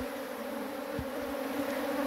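Bees buzz at an opened hive in a continuous, dense hum that stays steady throughout, close by, with an occasional louder insect passing near.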